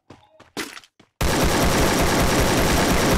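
Sustained automatic gunfire in Garena Free Fire bursts in loud and dense after a few short spoken phrases, then continues unbroken to the end.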